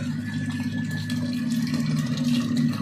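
Water pouring into the tank of a 50 litre shampoo mixer machine with its motor running, a close, steady rush and splash over a low mechanical hum, with no speech.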